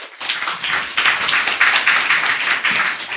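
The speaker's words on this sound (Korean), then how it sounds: "우리 나오실 때 박수로 환영해드리겠습니다" A church congregation claps in welcome as the pastor comes forward at a Sunday worship service, a dense, steady patter of many hands filling the whole stretch at even loudness with no talking over it.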